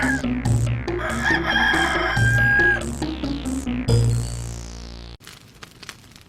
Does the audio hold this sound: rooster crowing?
yes